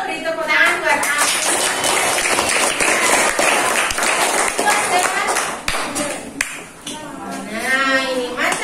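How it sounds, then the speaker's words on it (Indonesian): Classroom applause from a fifth-grade maths class, a dense crackle of many small hands clapping steadily for several seconds, with children's voices chattering over and around it. "Beri tepuk tangan buat aku."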